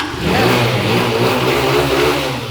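A second-hand turbo motorcycle engine revs loud and close, one smooth sustained roar that holds steady from start to finish with no one speaking.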